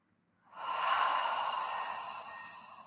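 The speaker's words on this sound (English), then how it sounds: "take a full breath in through your nose" A deep inhalation drawn through the nose during a yoga flow, one long breath swelling in over about two seconds and holding steady, close and clear with no talking.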